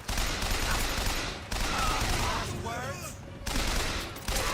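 Rapid bursts of gunfire in the video game BioShock Infinite, loud and dense, broken by brief pauses, with voices speaking over the shooting.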